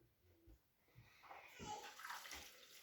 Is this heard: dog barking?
no